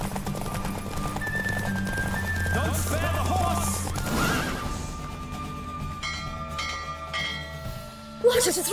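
Horse hooves clip-clop at a gallop during a horse race in The Witcher 3, joined by a neigh and a ringing bell, with a voice speaking over the steady hoofbeats.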